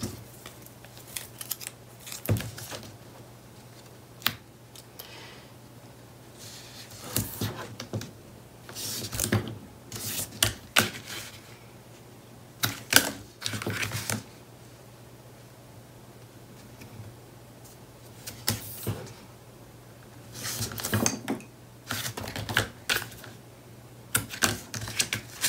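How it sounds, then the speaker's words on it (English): Strips of 3/8 inch tape pulled, torn and pressed onto the front and back of an album base with half inch hinges, irregular bursts of sharp crackly ripping and tapping, close and quiet between, over a low hum. "you're going to add tape to the front and back."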